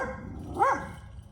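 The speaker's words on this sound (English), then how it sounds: "That's what the barking was." A Dalmatian dog gives a single short bark, somewhat distant and muffled, over a quiet background hum, with no talking.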